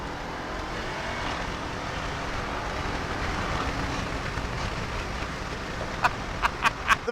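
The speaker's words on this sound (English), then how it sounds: "let's do a little bit of the windows down, just to get the sound of the supercharger." A 2018 Jeep Grand Cherokee Trackhawk drives with its windows down, its supercharged engine roaring steadily under heavy wind rush, and a few sharp clicks come near the end.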